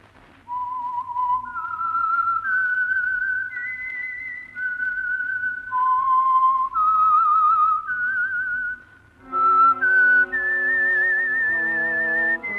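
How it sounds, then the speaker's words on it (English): Whistled theme identifying the Signal Oil program for the radio drama The Whistler, a lone melodic whistle of sustained clear notes stepping up and down, ending with a short orchestral chord, close and fairly loud with no talk. "the signal to listen for is this whistle that identifies the Signal Oil program"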